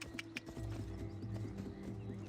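Horse hooves clip-clop in a steady rhythm in Assassin's Creed Odyssey, moderately close over a low droning game soundscape, with no talk.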